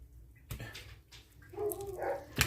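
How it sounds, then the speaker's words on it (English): A puppy indoors gives a few faint, brief barks and yips in answer to a neighbour's dog, short and quiet over a low background with no talking. "The dog next door is starting to bark, so now my puppy is starting to bark."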